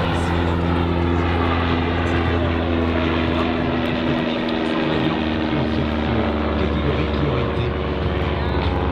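An ultralight version of the Belgian Stampe SV4 biplane flying a display at an air show in Gap-Tallard, its propeller engine droning loudly and steadily throughout with a slight swell in the middle.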